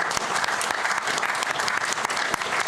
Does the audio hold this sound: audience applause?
yes